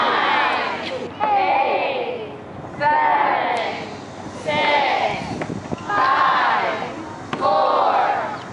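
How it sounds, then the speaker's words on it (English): Crowd cheering wildly at a life-size Mouse Trap game event, with four or five loud surging bursts of whoops, yells and screams separated by brief quieter gaps, close and energetic. "Cheering wildly."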